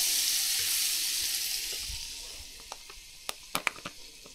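Butter softly sizzles in a pan over a wood fire as Sweet Dumpling squash cooks, a gentle hiss that fades, followed by a few sharp clicks and taps toward the end.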